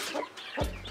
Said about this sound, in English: We have some chicks in the house.